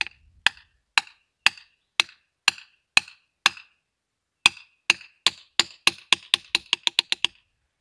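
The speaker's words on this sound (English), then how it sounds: "I'm just gonna tap this in." A socket is used to tap a new fuel pump seal into place on a Massey Ferguson 165 tractor, giving a close series of sharp metallic knocks that pause briefly and then speed up into rapid taps.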